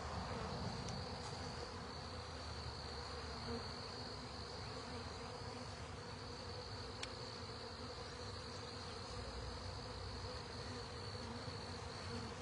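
Honey bees buzz steadily around an open hive during an April inspection of a recently split colony, a dense, continuous swarm hum with high insect whine, fairly faint and with no talking.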